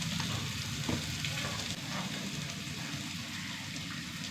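Chopped onions sauté in hot oil in a pan, a steady close sizzle and crackle running without pause, with faint stirring scrapes now and then and no voices.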